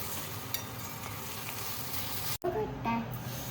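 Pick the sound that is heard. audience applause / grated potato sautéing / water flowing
grated potato sautéing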